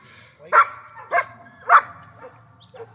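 A tracking dog working a double-blind trail during a real-life tracking assessment gives three loud, evenly spaced barks followed by two fainter yips, close by in an otherwise quiet outdoor setting.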